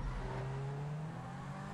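A Lamborghini in the racing game GTA 5 accelerates with a steady, loud engine drone and a gradually rising pitch, heard continuously on its own without talk.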